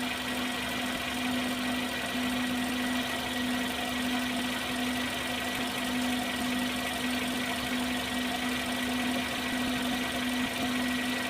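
A car engine idles steadily after an engine flush, a constant low hum with a clear droning tone and even mechanical texture throughout, no audible knocking or surges, with no talking.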